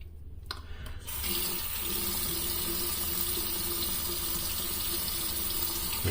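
A faucet runs steadily into a sink to wet a Rockwell 6S safety razor, the flow starting about a second in and then holding as a constant close-up rush of water.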